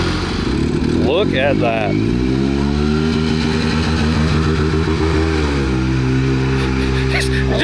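Kawasaki Z1 motorcycle with a big turbo idles steadily and loudly close by, a lumpy running engine with a slight rev change partway through while people talk over it.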